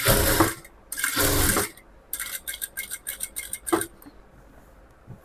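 A sewing machine stitches the shoulder seam of a layer-cut top in close bursts, two long runs followed by a series of short rapid stitching spurts with pauses between.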